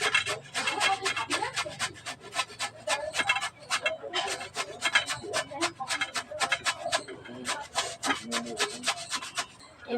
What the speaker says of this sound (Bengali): এভাবেই বাকি আলুগুলো আমি ঘষে নেব